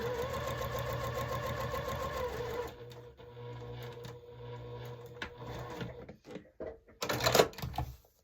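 A sewing machine stitches a flying geese quilt block, running steadily and loudly for a couple of seconds, then slowing into shorter stop-start bursts and a final quick back stitch, with no voice.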